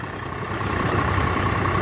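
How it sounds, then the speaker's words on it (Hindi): Swaraj 744 tractor hauling a heavy 150-quintal trailer load, its diesel engine giving a steady, loud low rumble that swells slightly and holds without a break. "अगर हम बात करें ट्रैक्टर के आवाज की तो दोस्तों एक तहलका आवाज है"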